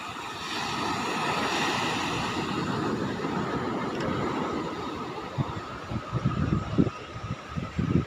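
Steady wash of surf rolling onto a beach, with broadband rushing noise and a few louder breaking bursts toward the end, plus some wind buffeting the microphone.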